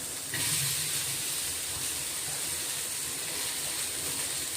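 Sliced onion sizzles as it roasts in a pan for stuffed eggplant: a steady, close, bright hiss that holds evenly throughout with no voices.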